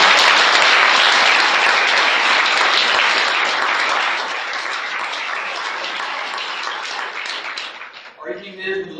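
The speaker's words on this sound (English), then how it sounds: "we should give them one last round of applause" Audience applause at an evening science and art event, sustained dense clapping from a large crowd that slowly thins toward the end, where a few voices begin.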